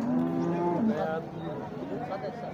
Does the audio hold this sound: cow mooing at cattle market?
yes